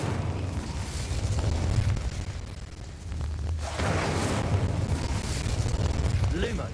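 A casting burst of the Incendio fire spell in Hogwarts Legacy roars out as a loud fiery whoosh and rumble, swelling again midway, with a voice speaking over it.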